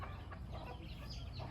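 Chickens cluck in an enclosure near their feeder, a busy overlapping chatter of several birds close by with steady low background noise.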